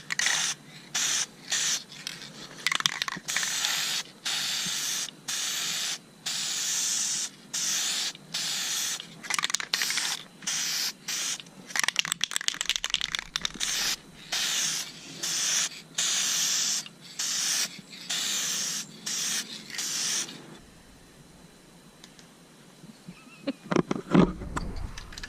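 Aerosol spray paint in wrinkle red hisses onto a valve cover in repeated close bursts of a few seconds each, steady and airy, stopping near the end before some faint handling noise.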